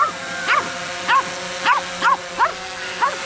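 Dogs bark repeatedly outdoors, six sharp barks at a regular pace, moderately close, with no talking.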